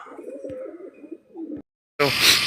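Large pigeons kept in netted pens coo close by in low, soft, repeated notes for about a second and a half, then a sudden loud burst of sound cuts in.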